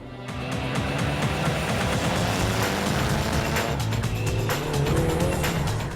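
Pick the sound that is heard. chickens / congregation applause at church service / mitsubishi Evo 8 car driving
mitsubishi Evo 8 car driving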